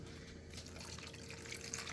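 Lukewarm water pours steadily into a pot for a chuck roast, a soft, continuous splashing trickle heard up close and fairly quiet.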